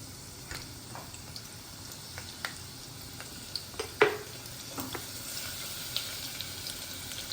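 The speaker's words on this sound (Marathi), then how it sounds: "त्यात आपला जो ठेचलेला लसूण आहे तो आपण ॲड करूया लसूण थोडा परतून घेऊया" Crushed garlic frying in hot oil in a pan, a steady soft sizzle with scattered crackles and a few sharper pops, close and moderately quiet, with no voices.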